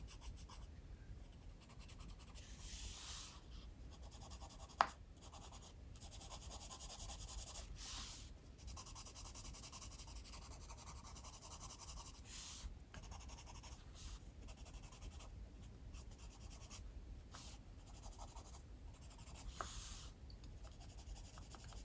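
A purple Prismacolor colored pencil rubs and scratches steadily across paper while coloring, a soft continuous scraping texture close up, with no talking.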